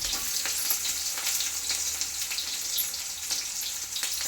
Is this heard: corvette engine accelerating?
no